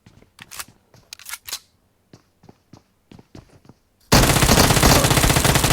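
Gunfire in the mobile battle royale game PUBG Mobile: a burst of sharp clicks and single shots, then a loud continuous barrage of rapid automatic fire filling the last stretch.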